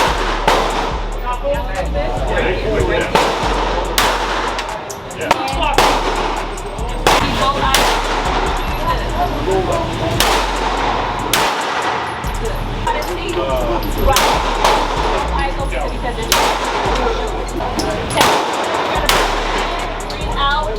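A .40 caliber handgun fires repeatedly at a firearms training session, the sharp shots coming at irregular intervals over constant background noise while people talk throughout.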